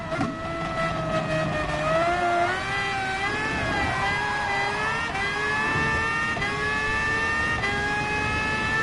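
Loud, steady engine drone from a racing car in GT Sport on the Dragon Trail track, its pitch climbing and dropping through gear shifts as it speeds along.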